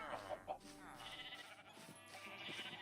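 A goat named Clumpy, stuck under floorboards, lets out several wavering, bleating screams, some close and fairly loud, with other noise in the room around them.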